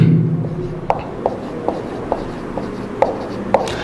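A number being written on a board in a maths class, a handful of short, crisp marker or chalk taps spaced about half a second apart, heard close by over a low room hum.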